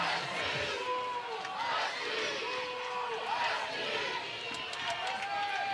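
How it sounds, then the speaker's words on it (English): Crowd chanting Husky at an NCAA softball game, Washington against Louisiana, a rhythmic distant chant from the stands under a commentator's voice throughout. "as the crowd chants Husky, Madison Husky comes to the plate"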